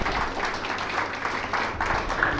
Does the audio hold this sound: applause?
yes